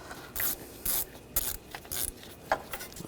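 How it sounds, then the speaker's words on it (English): A 7mm socket on a ratchet works a worm-drive hose clamp on a 2013–2022 Buick Encore 1.4L radiator hose. It gives quiet, short bursts of pawl clicking in irregular strokes with small pauses between them. "Use a 7mm socket. Loosen up the worm clamp right here."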